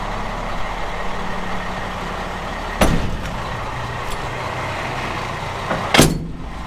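A truck hooks up to a trailer with a steady idling engine rumble throughout, and two sharp metallic clunks a few seconds apart as the fifth wheel couples.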